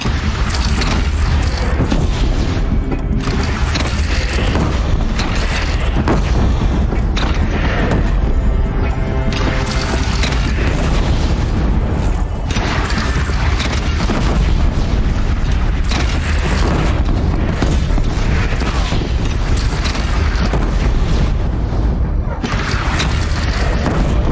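Cannon fire and explosions in Horizon Zero Dawn boom continuously and loudly in a dense, chaotic battle din, with repeated heavy blasts and rumbling over about twenty-four seconds and voices mixed in.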